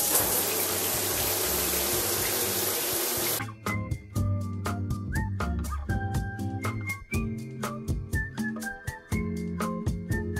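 Shower water runs as a loud, steady hiss for about three seconds, then cuts off abruptly, leaving scattered drips, clinks and small bathroom knocks.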